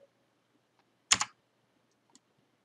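A brief burst of computer keyboard typing, a quick cluster of key clicks close to the microphone, then a single faint click, in an otherwise quiet room with no talking.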